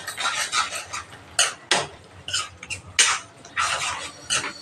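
A spoon knocks and scrapes against a pan while dried fish curry is stirred, giving a series of irregular metallic clinks and scrapes, close and fairly loud, with no talking.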